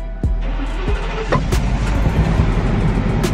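A U-Haul rental truck engine runs up close and loud, a steady low rumble with a few sharp knocks and clunks at the start.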